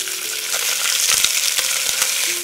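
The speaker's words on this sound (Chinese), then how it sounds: "稍微的两面煎一下" Chopped fish bones being pan-fried on both sides in a little hot oil, a continuous close crackling sizzle with a few sharper pops and faint utensil clicks.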